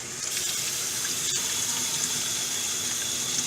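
Steady tap water runs and splashes in a sink while a freshly scaled rainbow whiting is rinsed clean of blood, a continuous close, even rush with no talking.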